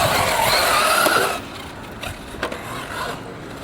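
Kyosho Inferno MP9 electric RC buggy running on a race track, a loud whirring drive with tyre scrub for over a second, then dropping to quieter rolling with light clatter and small bumps.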